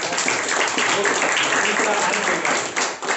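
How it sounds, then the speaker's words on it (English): Audience applause at a speakers forum, a dense steady wash of clapping from a crowd, loud throughout and dipping slightly near the end, with a voice faintly mixed in. "So shall we give him a round of applause?"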